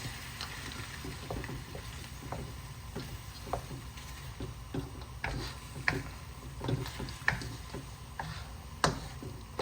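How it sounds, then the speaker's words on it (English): Garlic and ginger fry for a lamb karahi, a faint steady sizzle under scattered ticks and clinks of stirring against the pan, close but quiet throughout. "So cook it in with the garlic and ginger for a few more minutes before we get to the next step."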